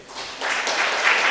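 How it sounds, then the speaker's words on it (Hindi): Audience applause at a talk on inner powers, steady broadband clapping building over a second and holding loud and dense, with no voices over it. "अपने लिए जोरदार ताली बजाएंगे"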